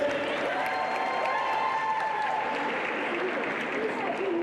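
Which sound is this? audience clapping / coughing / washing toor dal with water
audience clapping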